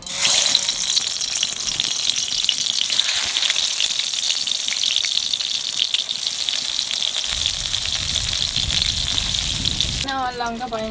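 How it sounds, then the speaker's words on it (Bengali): Eggplant slices coated in salt and turmeric frying in hot oil, a loud steady close sizzle throughout, with a rattling clatter near the end. "এখানে বেগুন নুন হলুদ মাখাই ভেজে নেব"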